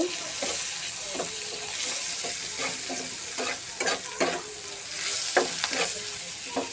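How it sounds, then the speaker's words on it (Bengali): Chopped onions sizzle steadily in hot oil while a spatula scrapes and stirs them in repeated strokes, close and fairly loud, with no talking, as onion frying begins for a spiced potato and liver dish. "এই মুহূর্তে আমি দিয়ে দিব পরিমাণ মতো পেঁয়াজ কুচি এখন এটা হালকা একটু নেড়ে নেব"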